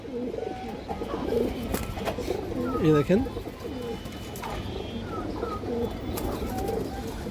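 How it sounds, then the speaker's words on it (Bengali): Pigeons, including a boot-beaked female, coo in soft rolling phrases at close range while someone talks over them. "এই যে দেখেন চুইঠাল বা জুটিয়ালা একটা মাদি কবুতর"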